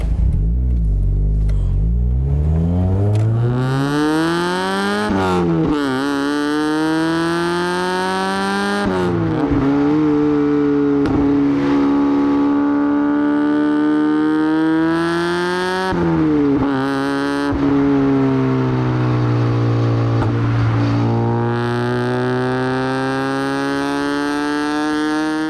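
A Mazda MX-5 35th Anniversary with its 1.6 litre 115 horsepower engine revs hard while driving, pitch climbing through several gears with brief dips at each shift, loud and close with no talk over it.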